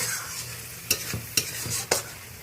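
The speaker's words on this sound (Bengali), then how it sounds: "এতেই আমি ভেজে রাখা পটল আলুটা আরও একবার ভালো করে মশলার সাথে কষিয়ে নেব" Fried potol and potato being stirred and fried again with masala in oil, a steady sizzle broken by three sharp spatula scrapes, close and fairly loud.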